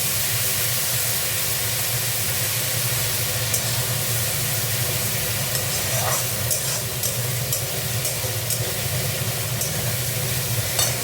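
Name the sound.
frying spice paste for koi fish curry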